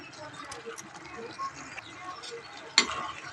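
Egg gravy with yolk being stirred in a pan, a quiet scraping and light sizzle running steadily under soft background sound, with one sharp clink near the end.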